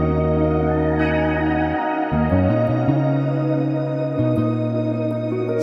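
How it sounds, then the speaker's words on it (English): Sustained string layers play underneath a trap-style beat, gliding between chords beneath a stepping bass line, steady and fairly loud with no talking. "All right, final thing. We need some strings."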